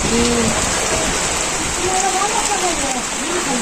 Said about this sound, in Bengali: পাঁচ ছয় দিন রোদ উঠছিল আবার বৃষ্টি শুরু হয়ে গেছে দেখেন